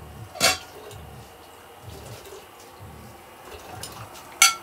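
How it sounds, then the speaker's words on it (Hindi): Dishes being washed in an RV kitchen: a rhythmic series of soft scrubbing strokes with water trickling beneath, framed by two sharp clinks of crockery near the start and end. "बर्तन धो के सेलिब्रेट कर रहे हैं"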